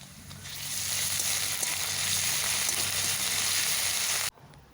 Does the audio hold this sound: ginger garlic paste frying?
yes